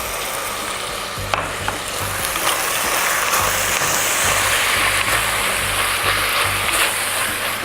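Duck leg meat fries in butter for a stew, giving a loud, continuous sizzle close by, with occasional scrapes and clicks from the pan.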